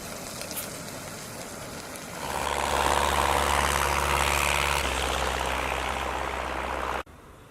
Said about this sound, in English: It's really awesome watching these bush planes land